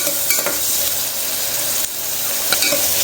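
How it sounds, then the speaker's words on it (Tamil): Loud, close, continuous sizzling as ingredients for a mutton intestine curry are sautéed and mixed in a hot pan, with occasional sharper scrapes and clinks of the stirring spoon. "கொஞ்ச நேரம் அப்படியே மிக்ஸ் பண்ணிட்டு இருக்கணும்."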